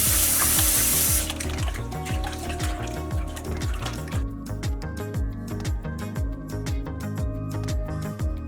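Tap water running into a kitchen sink while raw pork is rinsed after a lime and vinegar clean, a steady close splashing stream that changes tone partway as the flow hits the meat and basin.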